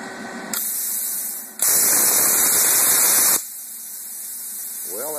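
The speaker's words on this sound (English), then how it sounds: "let's see if pilot arc fires up for the very first time" An Everlast PowerPlasma 50 plasma cutter firing its pilot arc for the first time gives a loud, steady hiss for about two seconds, set against a constant airy, staticky background with a high whine.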